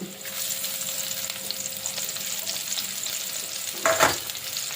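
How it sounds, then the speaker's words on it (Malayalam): Onion, garlic and ginger sizzle steadily in hot coconut oil, a continuous close crackle and hiss, with a brief stirring scrape near the end. "വെളിച്ചെണ്ണ ചൂടായിട്ടുണ്ട് അപ്പോൾ നമ്മൾ കുറച്ച് ഉള്ളി അരിഞ്ഞത് വെളുത്തുള്ളി ഇഞ്ചിയും കൂടെ നമ്മൾ നീളത്തിലൊന്ന് കട്ട് ചെയ്തതും"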